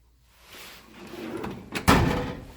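A toolbox junk drawer rolls open with a rising slide that ends in a sharp metallic clunk, close and loud, with no other sounds around it.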